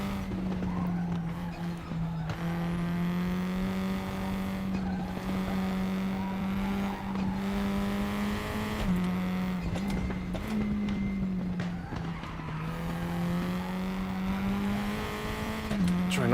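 A race car in the RaceRoom sim racing game drives a hot lap, its engine a steady loud drone that rises and falls with brief dips at gear changes and throttle lifts, continuous throughout.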